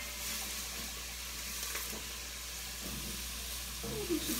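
Vegetables sizzle steadily in a hot pan for pumpkin chili, a soft, constant frying crackle heard up close throughout, with a faint clink near the end and no talking.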